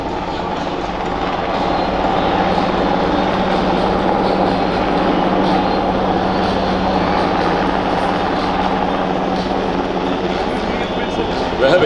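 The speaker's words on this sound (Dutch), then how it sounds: "dankzij het gebruik nemen van deze NH-90 helikopter" A Belgian Navy NH90 naval frigate helicopter at the Sanicole Airshow 2022 gives off a loud, steady turbine and rotor drone that never lets up, while a voice talks over it.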